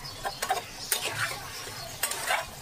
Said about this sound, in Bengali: এইভাবে ভালোভাবে নেড়ে চেড়ে আবার মশলাটা আমি কষাবো